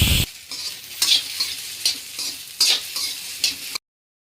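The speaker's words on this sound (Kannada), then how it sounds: "ಒಂದು 2 ಮಿನಿಟ್ಸ್ ಚೆನ್ನಾಗಿ ಫ್ರೈ ಮಾಡ್ಕೊಳ್ಳಿ" Okra frying in a pan as it is stirred, a steady hiss of sizzling broken by a run of scraping, rustling stirs roughly every half second, close up with no talk, ending abruptly.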